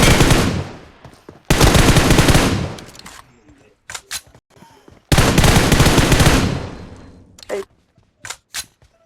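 Automatic gunfire in a video game with auto-aim: two long, loud sustained bursts separated by a pause, followed by scattered short shots and quieter clicks.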